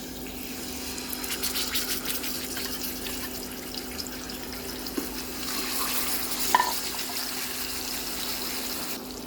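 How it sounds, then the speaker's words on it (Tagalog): Seasoned fish frying in a pan of hot oil, a steady crackling hiss that runs the whole time at moderate volume, with a few soft bubbling pops and one brief knock near the end. "In our ready heated oil, let's fry our seasoned fish."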